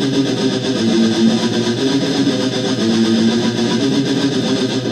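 Heavily distorted electric guitar chugging a riff, a dense continuous wall of gritty tone, loud and close without pause or speech.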